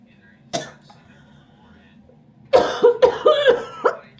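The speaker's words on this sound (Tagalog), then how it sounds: "Hindi na nawala yung ubo ko" A single sharp cough rings out close by, followed after a pause by a rapid burst of several more coughs in quick succession, with a low steady hum underneath.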